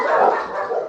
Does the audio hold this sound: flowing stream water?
no